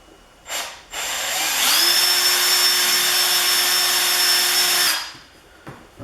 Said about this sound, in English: So let's drill this one out.